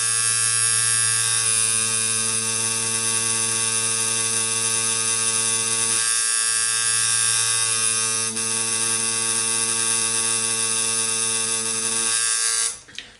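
A tattoo machine runs continuously at a strong setting, a steady loud electric buzz with a bright whine, dipping briefly near the middle and cutting off at the end.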